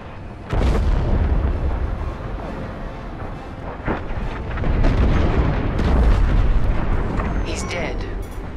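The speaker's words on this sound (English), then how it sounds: "The frigate is about to explode." A frigate blows apart in a Star Wars: Squadrons space battle, heard as a loud, rumbling blast with deep booming bursts and crackling debris that swells and rolls on for several seconds.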